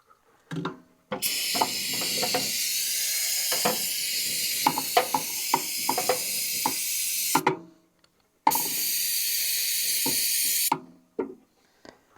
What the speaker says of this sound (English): always try to keep a little bit of brake cleaner